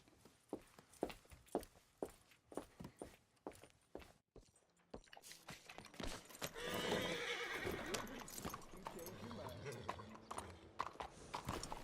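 Horse hooves clip-clop in a steady walking rhythm in Red Dead Redemption 2, then a loud neigh rings out, followed by continued stepping and snorting.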